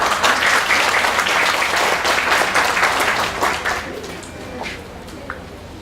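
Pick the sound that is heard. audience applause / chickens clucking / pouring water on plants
audience applause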